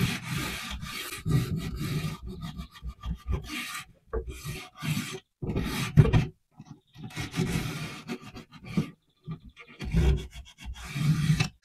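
A folded sanding disc rasps by hand along a groove in a wooden chair, in steady back-and-forth strokes with brief pauses between runs, close and fairly loud.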